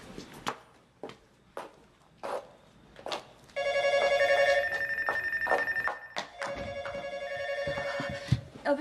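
A telephone rings with repeated electronic trills from about the midpoint onward, two sustained ringing bursts following a few sharp knocks or footsteps, moderately loud in an indoor room.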